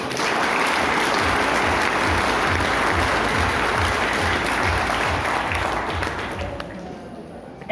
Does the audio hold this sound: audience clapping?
yes